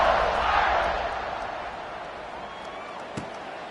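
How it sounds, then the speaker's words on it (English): A college football stadium crowd keeps up a loud, steady buzz that peaks early and slowly eases, with one brief thump near the end. "this crowd is buzzing after that last score"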